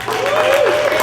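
Wedding guests clap together at a reception, a steady, fairly loud patter of applause filling the room throughout with a sustained tone running beneath it.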